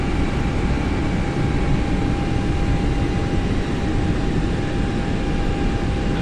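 An Airbus airliner in a flight simulator game drones with a loud, steady, unbroken engine roar and a faint high whine running through it.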